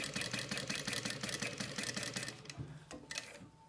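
A sewing machine stitching through vinyl, a rapid rhythmic mechanical chatter that runs steadily for a couple of seconds, then slows and stops with a few last clunks, close and loud.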